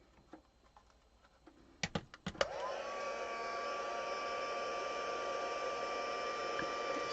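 A heat tool for a craft project starts up after a few soft taps and handling clicks, then blows hot air in a steady, close, even hiss to the end.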